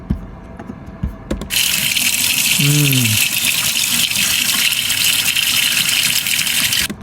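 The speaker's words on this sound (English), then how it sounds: "More of a splashing effect. This is water into an out of vessel." After a few light knocks, a steady rush of water starts abruptly as water is poured into and out of a vessel, splashing and gushing loudly, with a brief low voice-like murmur partway through.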